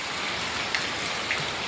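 Steady rain falls outside, a dense, even hiss with a couple of faint drips or taps standing out, continuous for the whole stretch and with no voices.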